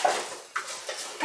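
A puppy indoors in a home kitchen makes a few short, close yelping whimpers, loud in bursts over about a second.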